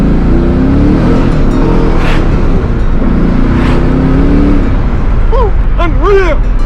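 Loud LS V8 in an R31 Nissan Skyline revving hard while drifting, a continuous roaring engine with rising and falling pitch sweeps near the end, close and sustained throughout.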